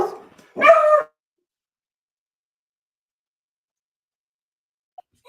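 A dog gives a short burst of two or three quick barks close by, then the room falls almost silent.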